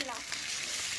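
Fried rice being stirred in a hot pan, a dense continuous sizzle heard up close for a brief moment.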